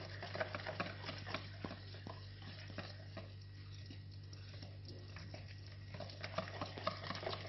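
Flour is mixed into dough for a flaky crisp coca, soft scraping and squelching stirring strokes in irregular bursts, faint and close over a steady low electrical hum.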